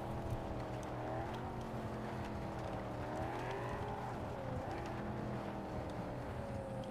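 A car drives fast in the video game Cyberpunk 2077, its engine droning steadily with shifting pitch as it speeds along, continuous and moderately quiet with no talk.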